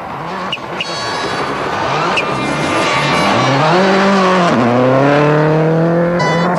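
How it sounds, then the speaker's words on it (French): A Subaru rally car flat out in sixth gear near 200 km/h at the 2003 Rally of Great Britain, its loud engine note climbing steadily in pitch, dipping briefly on a lift, then holding a sustained high-revving roar close by. "il swing derrière le volant de sa Subaru en 6e vitesse à près de 200 km/h"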